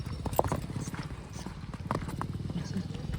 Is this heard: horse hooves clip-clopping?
yes